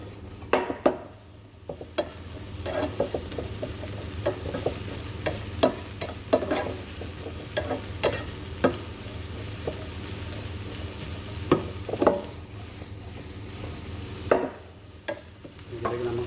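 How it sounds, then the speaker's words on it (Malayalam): Capsicum stir-fried in a pan, with steady sizzling throughout and repeated scraping, clattering strokes of a utensil against the pan at an irregular pace. "നമുക്ക് 2-3 മിനിറ്റ് വരെ ക്യാപ്സിക്കം കുക്ക് ചെയ്യാം."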